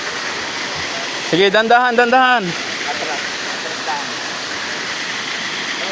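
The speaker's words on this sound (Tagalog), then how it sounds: "na mga hindi pa alam na merong ganitong kagandang waterfalls" Cabuanga Waterfall in El Nido pours with a constant, close, full rushing roar throughout, while a person briefly speaks over the water.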